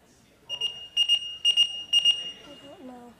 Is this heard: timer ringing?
yes